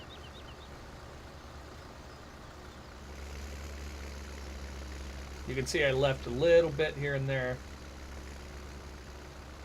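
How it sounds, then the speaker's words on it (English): Tractor engine in the Farming Simulator 17 video game, a steady low idle-like drone that steps up in level partway through and continues under a man's speech. "now you can see my tractor has to like go up over the hills of the grass"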